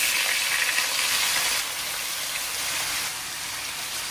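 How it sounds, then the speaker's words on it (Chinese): Marinated pork ribs pan-frying in a little oil in a wok, giving a loud, dense, steady hiss of sizzling fat that eases slightly partway through, with no speech. "把排骨煎一下。"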